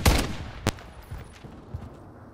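Rifle shots ring out in a first-person shooter game: a loud sharp burst at the start, another crack shortly after, then a few fainter reports fading behind.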